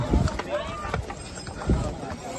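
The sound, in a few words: horses' hooves on the Kedarnath trail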